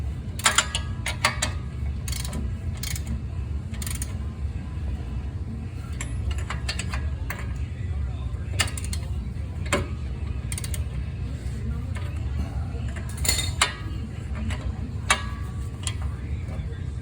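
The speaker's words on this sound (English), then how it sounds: "I tighten up the bottom to get everything in place, and then I go and tighten up the top at the end." Ratchet clicks come in short bursts as strut bolts are tightened on the passenger-side front of a 2006 Honda Pilot, with metallic ticks standing out over a steady low hum.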